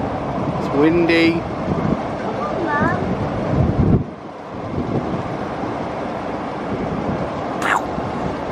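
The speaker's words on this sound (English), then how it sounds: "Windy." Strong wind gusts roar steadily across a Florida storm over a water park in Orlando, a broad whooshing rush with a brief lull midway; people's voices and shouts are heard over the wind.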